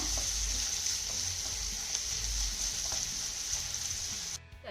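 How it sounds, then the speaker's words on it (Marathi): Chopped onion with half a spoon of cumin sizzles steadily in a hot pan, a continuous close frying hiss with faint stirring, ending in a brief clatter. "कांदा ना चांगला मौसूद होईपर्यंत परतून घेऊया"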